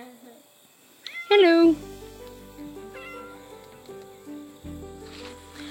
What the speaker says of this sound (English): I've been hearing him meow for a few minutes